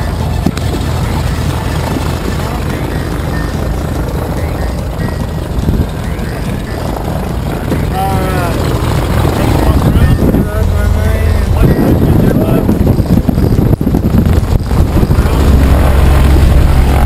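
Steady, loud drone of an airplane engine and propeller inside the cabin before a first skydive, running continuously throughout with voices talking over it.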